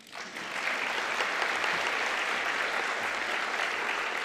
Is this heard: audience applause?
yes